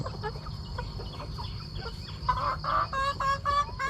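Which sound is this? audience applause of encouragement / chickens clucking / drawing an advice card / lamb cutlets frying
chickens clucking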